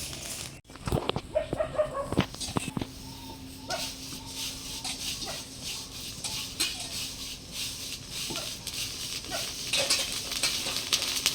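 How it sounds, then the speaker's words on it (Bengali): Puffed rice (muri) being roasted and stirred in a home kitchen, giving a steady dry sizzling, rustling rattle with scraping and clinking of the pan throughout, fairly close and continuous. "এদিকে মুড়ি ভাজা হচ্ছে"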